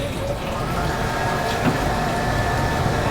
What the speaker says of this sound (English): Hand dryer works, but it's one of those like awful ones that doesn't really do much.